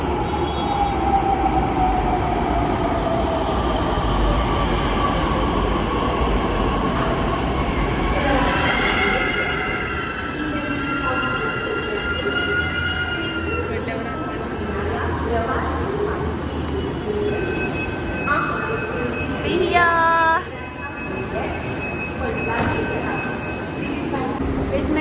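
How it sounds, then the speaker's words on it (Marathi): A Pune metro train arriving at a station: a loud rolling rumble with high wheel squeals and tonal whines as it slows, while people talk over it. "बघा मेट्रो अशी येते."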